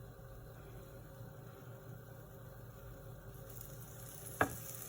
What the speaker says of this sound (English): We can increase fire and let it fry properly at the other side.